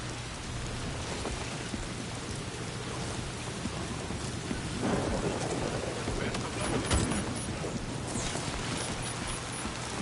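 Heavy Timefall rain in the game Death Stranding 2, a dense steady downpour hissing across the ground with a low rumble swelling midway, constant and enveloping with no voices.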